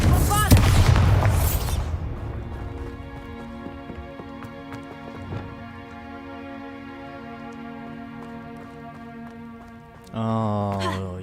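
Confringo and Bombarda spell blasts from the Hogwarts Legacy video game open with a loud, booming burst, then fade into sustained game music with faint thuds, and a second sharp magical impact lands near the end.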